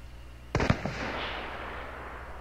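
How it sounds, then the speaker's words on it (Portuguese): Gunshots in the video game Hunt: Showdown: two or three sharp close cracks in quick succession, followed by a rolling echo that fades over about a second and a half. "Ó, galera, tiros."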